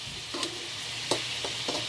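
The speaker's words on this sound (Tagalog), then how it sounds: "Tapos ipiprito niya yung sarili niya. Sa sarili niyang mantika." Pork intestines frying in their own rendered fat, with a steady low sizzle, a few louder crackles and stirring scrapes spaced through the short stretch.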